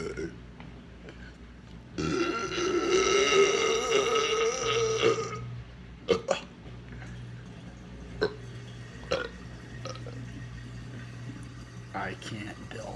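A long, loud belch rumbles for about three seconds, followed by a low droning tone and a few sharp clicks and knocks.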